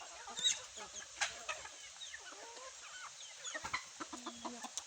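Labuyo junglefowl rooster and chickens clucking and calling in short, irregular bursts at moderate distance, with faint rustling between calls.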